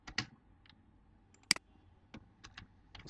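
Typing on a computer keyboard while writing C code, quiet, irregular keystrokes close by, in short clusters with one louder key strike, and no talk over them.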